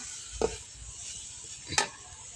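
Soybean curry being stir-fried in a pan, with a soft continuous sizzle broken by two sharp metallic scrapes of a spoon against the pan.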